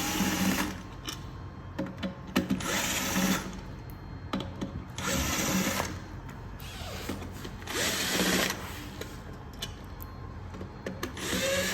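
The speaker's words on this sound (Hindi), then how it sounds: "मोटर का जो वायर साइड वाला कवर है, इसके माउंटिंग स्क्रू खोलेंगे गन से" A power screw gun takes out the mounting screws on the wire-side cover of an electric scooter motor, whirring in several short bursts with brief pauses between them.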